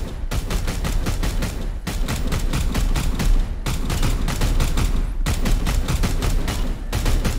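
Sustained bursts of gunfire from the video game Warhammer 40,000: Chaos Gate - Daemonhunters, dense rapid volleys rattling on continuously at steady loudness with brief gaps between strings of shots, no voices.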